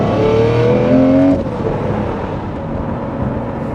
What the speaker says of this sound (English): the Murci shifts just as hard in rear-wheel drive